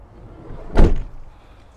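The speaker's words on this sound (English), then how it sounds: "Both sides it's got opening doors." A side door on a Westfalia Nugget Plus automatic camper van swings shut with a single close, solid thud that quickly fades.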